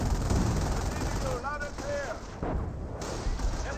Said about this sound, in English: We do have, of course, a Hummel barrage right there.